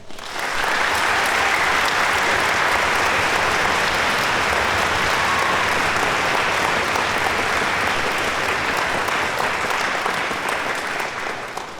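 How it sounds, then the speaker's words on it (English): Sustained audience applause fills a school auditorium after a high school honor orchestra concert, a dense, steady wash of many hands clapping at full loudness for about twelve seconds before tapering slightly at the end. "Let's give them a round of applause."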